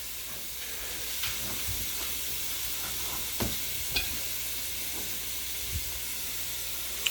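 Chopped red onion sizzles in a hot pan with a constant bright hiss. Faint scraping and stirring clicks are scattered through it, and no one speaks.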